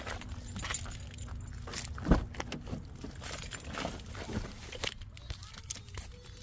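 Car keys jangle faintly as a key slides into the ignition of a Mazdaspeed 6, a brief metallic clink standing out against quiet background noise and shuffling.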